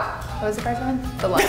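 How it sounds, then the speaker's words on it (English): A dog barks in short bursts close by while people keep talking over it. "Oh yeah, sorry, that's the dog."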